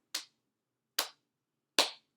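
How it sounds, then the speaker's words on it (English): Three sharp, evenly spaced claps ring out in a quiet room, each a crisp single hit with a short decay and silence between. "3 claps."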